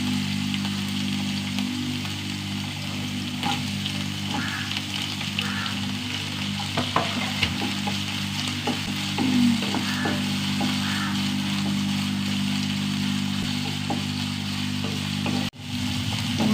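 Green chili and onion sizzle steadily in a hot pan, a continuous close frying hiss with occasional stirring clicks, no talking.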